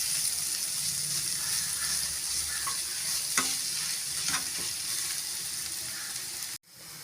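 Chili powder masala roasting in a pan for a Tamil tamarind curry with elephant foot yam, a moderate hiss with a few soft stirring taps, cutting off abruptly near the end.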